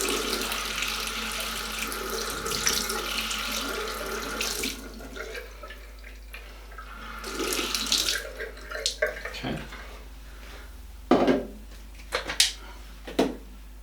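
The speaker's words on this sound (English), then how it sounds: "put that bit under the tap, which is probably the easier way to fill it up." Tap water runs into a portable water flosser's reservoir, steady splashing that cuts off, followed by scattered clunks and handling knocks.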